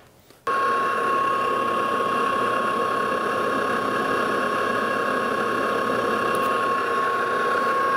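A metal lathe starts up and runs steadily while turning down a custom mandrel made to hold a broken gear, a loud continuous machine whine with a strong steady tone and no talking.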